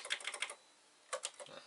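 Short quick bursts of key clicks on a computer keyboard as a command is typed, with a pause between two clusters of strokes, close and fairly quiet.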